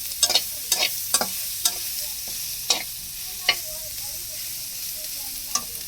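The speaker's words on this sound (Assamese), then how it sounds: "এনেদৰে কম চিমত মই ভাজি ল'ম সয়াবিনটো," Soybean chunks frying in oil with turmeric and salt over a low flame give a steady, soft sizzle. Sharp spoon scrapes and stirring clacks break through it at irregular intervals, and no voice is heard.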